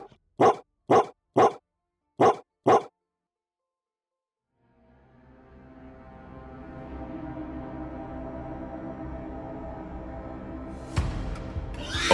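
Hunting dogs bark while chasing wild boars: five sharp, evenly spaced barks ring out close by, then a pause gives way to a rising, continuous noisy rush with a louder burst near the end.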